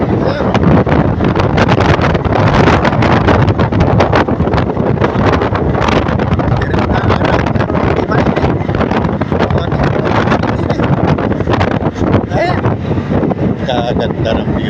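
Strong wind roars and buffets the microphone in constant gusts at Dingalan beach, loud and close, with muffled voices and movement underneath.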